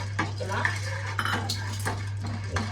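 Crushed peanuts roast in a pan for black kavuni rice laddu: a spoon scrapes and clinks against the metal pan in short, irregular strokes, close and moderately quiet over a low steady hum.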